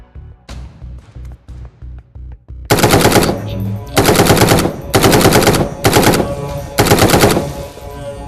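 Gunfire from a slap-mag gun in the VR game Sport Mode: a few light clicks, then several loud, close bursts of rapid automatic fire separated by short pauses.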